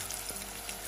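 Radish fried with green chilli and chopped tomato sizzles steadily in a pan, a short burst of continuous crackling with a faint stir in the middle and no voices.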